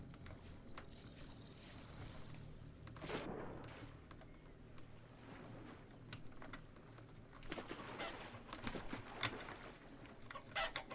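Chickens and hens cluck softly in Vintage Story, scattered clucks and short calls mixed with faint clicking of keys, quiet and close with no talk.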